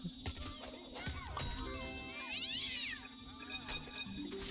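Cat meowing indoors, a few drawn-out, wavering meows and one longer caterwaul-like yowl midway, fairly close but soft, with light clinking in the background.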